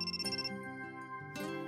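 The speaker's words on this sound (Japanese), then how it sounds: "Oh, incoming call." An electronic phone ringtone for an incoming call in the game Amnesia: Memories plays as a short melodic sequence of clear, bright tones, close and alone with no voices.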